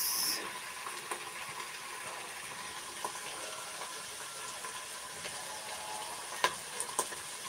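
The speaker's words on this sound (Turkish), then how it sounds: "Bakın güzelce şimdi kavuruyoruz" Chicken for a stew sizzling and frying in a pan, a steady broadband hiss with occasional sharp crackles and stirring clicks, close and moderately loud, with no talking.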